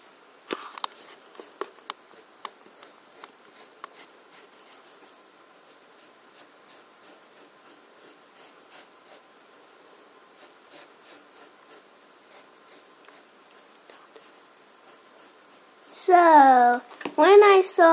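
Pencil drawing on paper, a steady run of faint light scratchy strokes up close, with loud speech breaking in near the end.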